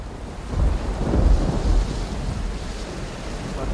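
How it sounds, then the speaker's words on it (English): Thunder rolls during a thunder and lightning storm at an airport, a deep rumble that swells and fades over a few seconds amid steady rain noise, with no voices. "now we were sitting in the middle of a thunder and lightning storm."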